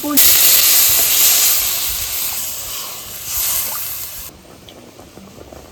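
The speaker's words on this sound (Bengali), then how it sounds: "দেখুন আমার কষানো হয়ে গেছে, এখন আমি একটু জল দিয়ে দিচ্ছি" Water poured into a pan of sizzling mustard and chili masala sets off a loud burst of hissing steam and crackle that dies down to a quieter simmering hiss after about four seconds.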